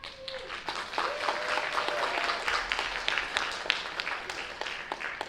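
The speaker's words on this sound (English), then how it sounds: "please give a large round of applause for our photographers and videographers" Audience applause at a Miss Vietnam Wichita scholarship pageant, many hands clapping at moderate distance in a steady, even patter with a few sharper individual claps.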